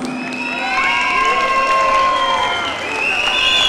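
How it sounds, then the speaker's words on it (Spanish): A crowd at a Cholita Gironense 2016 election event cheers and applauds, with shrill shouts and whistling voices over a dense wash of clapping, loud and sustained. "Le damos un fuerte aplauso."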